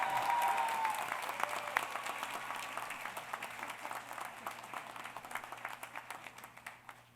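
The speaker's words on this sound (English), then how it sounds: "let's give him a really rounding applause" A commencement ceremony audience gives sustained applause, dense clapping that is loudest at the start and gradually thins and fades over several seconds.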